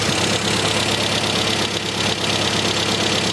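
A car engine with an SU carburettor idles steadily at about 1,000 rpm during mixture tuning, a loud, close, even rumble with a slight knocking pulse and no talking.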